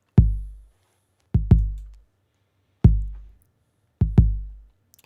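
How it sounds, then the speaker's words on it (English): A cassette-style 808 bass drum from an FL Studio beat thumps alone four times, each hit a loud deep boom with a long decaying tail, some struck as quick doubles. "I used the same cassette 808 bass drum to give it that"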